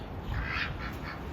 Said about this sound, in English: she's a beautiful duck